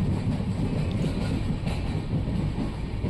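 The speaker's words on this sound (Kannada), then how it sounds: "ಜಹೀರಾಬಾದಿಂದ ನಮ್ಮ ಟ್ರೈನ್ ಹೊರಟಿದೆ." A passenger train pulls out of platform 1 at Zaheerabad station, a steady low rumble and rattle of carriages heard from inside, moderately loud with no voices.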